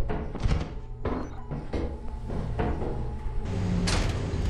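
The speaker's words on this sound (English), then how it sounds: "Heard a door open?" Door opening in the video game Lethal Company, a few hollow thunks and creaky knocks spread across a few seconds over a steady low game ambience, moderately loud.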